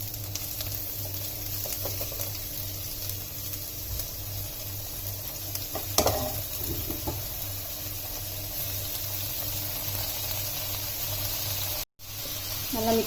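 Banana flower frying in a pan with onions, a steady low sizzle running throughout with a brief stirring clatter partway through, fairly faint and without talk.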